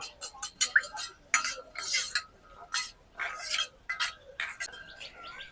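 A spoon clinks and scrapes inside a small metal bowl, stirring food colouring to dissolve it for a village-style chicken biryani, in quick irregular bursts of bright ringing taps, close and clear.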